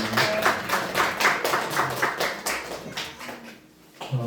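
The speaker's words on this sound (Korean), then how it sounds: "우리 박수로 축복해 주시기 바랍니다" Congregation applauding the pastor's family during a Sunday church service, a steady patter of many hands clapping in a hall that tapers off near the end.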